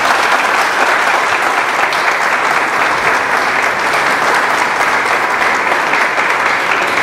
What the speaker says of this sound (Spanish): igualmente al ingeniero Kelvin Almeida, que usted le regale un fuerte aplauso a ellos.